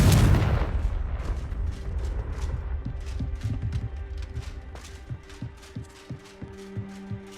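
A Confringo fire spell in Hogwarts Legacy opens with a loud explosive boom, then fades into a rumbling tail marked by a run of smaller crackling pops and thuds.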